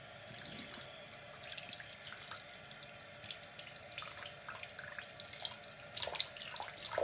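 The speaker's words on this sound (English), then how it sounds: "So I'll go ahead and turn on the water here." Water runs steadily from a sink tap, a continuous soft hiss with faint splashing and small drips, used for cleaning game controller parts.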